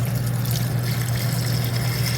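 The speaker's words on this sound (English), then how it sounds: "I'm just going to dump this water that I already drained out of it." Drained cooking water is dumped into a small RV sink as a steady, close rush of pouring liquid. It continues without a break under a constant low hum.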